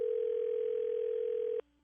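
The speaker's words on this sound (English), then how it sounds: "Let me see if I can get him on the phone." A steady telephone dial tone hums continuously for about a second and a half, then cuts off abruptly as a call is placed.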